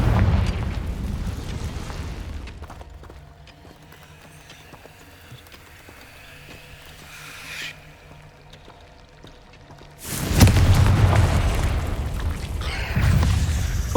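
A Confringo blasting spell in Hogwarts Legacy erupts in a loud, sudden burst after a quieter stretch, followed by a rumbling blast tail.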